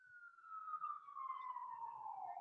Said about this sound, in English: I think the sirens are coming in through your